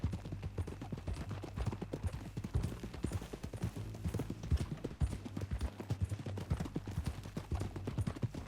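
Steady clip-clop of horse hooves while riding in Red Dead Redemption 2, a rhythmic trot of close, moderately loud hoofbeats carrying on throughout.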